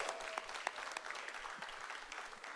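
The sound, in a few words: applause at a city council meeting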